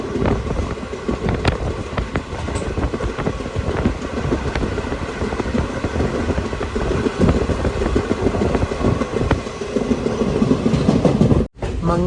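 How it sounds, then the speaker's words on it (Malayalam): The Maveli Express rolling into Thiruvananthapuram Central railway station: a continuous close rumble of wheels and carriages with steady clickety-clack over the rails, sustained and loud with no talk. "ട്രെയിൻ ഇതാ തിരുവനന്തപുരം സെൻട്രൽ റെയിൽവേ സ്റ്റേഷനിലേക്ക് എത്തിക്കൊണ്ടിരിക്കുകയാണ്"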